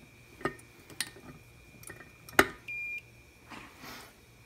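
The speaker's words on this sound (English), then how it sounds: "I heard a little beep" A Hakko FX-951 soldering station gives a short, faint electronic beep on a workbench, among a few light clicks and taps from handling the iron and stand.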